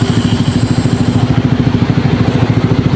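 A Honda ADV 160 scooter engine idling close by, a loud, steady mid-pitched chugging pulse with regular rhythmic beats and no talk.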